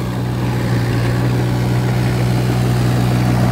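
A mini excavator's diesel engine at full throttle: a loud, steady, droning hum with a strong low tone, continuous and unchanging throughout, close by.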